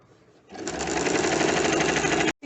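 A sewing machine runs in one steady burst, stitching elastic onto a garment waistline, loud and close with a continuous whirring rhythm after a quiet start and a brief cutoff near the end.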